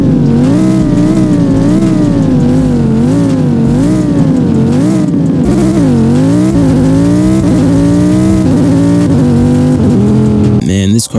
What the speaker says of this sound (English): it's based on a Huracan, so it has that beautiful V10 sound